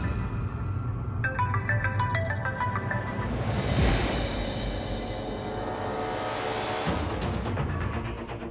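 A phone ringtone plays a bright, repeating electronic melody over a steady background hum, with no one speaking.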